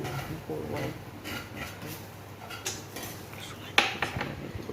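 A spoon scrapes and clinks against a pot as oats are stirred in oil, with a few sharper metallic taps near the end. Soft, intermittent kitchen handling, fairly quiet and close.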